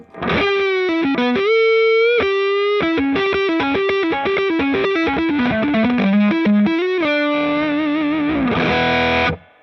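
An overdriven Gibson Futura electric guitar on the neck pickup plays a fast melodic line with a warm, thick tone, notes bending and sliding, ending on a sustained chord that cuts off.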